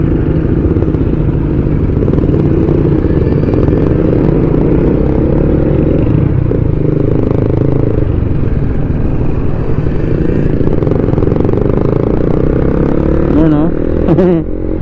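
A Yamaha RS 100 two-stroke motorcycle engine idles and putters loudly and continuously nearby, with a brief sharper rev near the end and voices talking faintly underneath.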